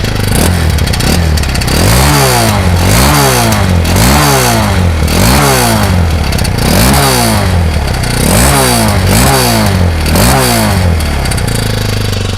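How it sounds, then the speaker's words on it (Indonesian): A two-stroke Kawasaki KX 230 dirt bike engine revs loudly and close in a steady repeating cycle, each rev rising sharply then dropping, about nine times in a row with no voices. "khas Kawasaki 230. Jadi suaranya tuh dentumannya lebih cepat, knalpotnya lebih garing."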